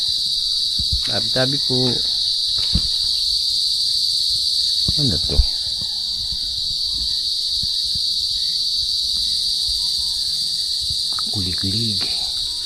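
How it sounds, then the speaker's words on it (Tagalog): Crickets chirp at night in a quiet rural spot, a dense, continuous high trill close around the microphone, while a person speaks a few brief words under it and footsteps and small rustles come and go. "Tahimik, puro kuliglig."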